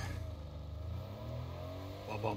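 A car in the video game Fortnite revs and accelerates, a steady mid-pitched engine drone held close and loud, with speech over it.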